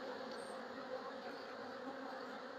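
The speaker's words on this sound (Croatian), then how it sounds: "Ima dosta pčeli." Many bees buzz inside a beehive, a low continuous hum of wings held evenly throughout, faint and close, with no talking.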